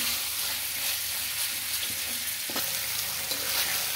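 Chicken pieces fry over high flame in a pan and are stirred, giving a constant hissing sizzle with occasional scraping knocks from the spoon. It is fairly quiet and close, with no voices.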